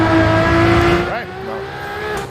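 Ferrari F50 engine in the Assetto Corsa racing game, loud and close with a strong rising harmonic whine under acceleration, then a brief dip at a gear change before the revs climb again on an uphill section.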